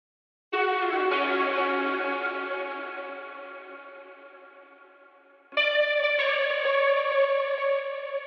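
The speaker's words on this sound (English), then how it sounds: "So let's quickly run through the effects I added for that guitar sample." A sustained, ringing guitar chord drenched in reverb and lo-fi effects slowly fades, then a second chord strikes in loudly and rings on.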